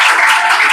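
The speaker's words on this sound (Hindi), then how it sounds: "दूसरा नंबर रईसा ग्रुप का, इसके लिए भी जोरदार तालियां" Audience applause for the second-place group at a school math quiz competition, a dense, steady wash of clapping filling the whole short stretch without pause.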